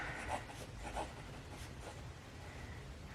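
A Franklin Christoph 55 fountain pen with a non-flex nib showing line variation, scratching faintly across paper in a few short, quiet strokes, with no voices.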